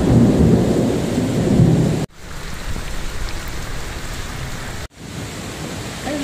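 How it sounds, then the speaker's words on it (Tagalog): Heavy typhoon rain pours in a dense, roaring hiss with rumbling thunder, loud and continuous, broken by two abrupt cuts. "Sana naman tumila na yung ulan."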